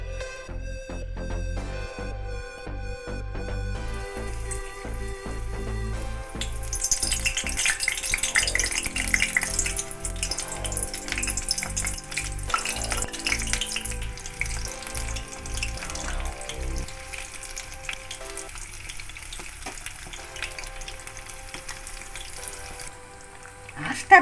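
Batter-coated drumstick flowers fry as pakora in hot oil, a steady crackling sizzle that rises and thickens as pieces go in, with occasional clinks and stirring in a home kitchen, no talk.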